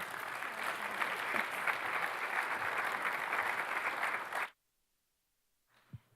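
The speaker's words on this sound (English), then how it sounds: "Another round of applause for Amber." An audience at a university showcase talk gives a full round of applause for over four seconds, a dense, even roar of clapping that cuts off abruptly into near silence, followed by a faint brief knock.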